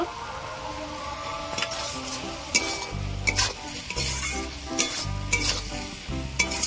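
Ground spices stir-fried in hot oil for a koi fish curry with eggplant: a steady close sizzle broken by repeated scraping stirs and louder spatula knocks in a loose rhythm.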